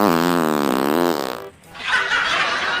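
Comedy fart sound in a Sundanese skit: a long, buzzing, wobbling blast lasting over a second, then a brief pause and a noisy hiss or laugh-like burst afterward.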